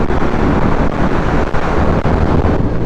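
Loud, steady roar of wind buffeting the microphone on a BMW S1000RR sportbike ridden fast, with the engine buried under continuous broadband rush and no pauses.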